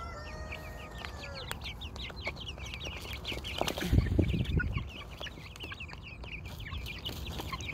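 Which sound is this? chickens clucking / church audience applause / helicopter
chickens clucking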